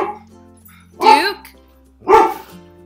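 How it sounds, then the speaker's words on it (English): Two sharp dog barks about a second apart, close and loud, over a quiet room with a low steady hum; several dogs are in the home. "Guys, stop barking."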